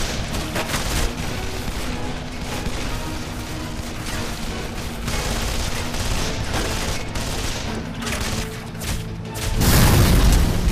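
Dense, continuous gunfire and booming shots from the video game Call of Juarez The Cartel roar without pause, swelling into a louder, heavier burst near the end.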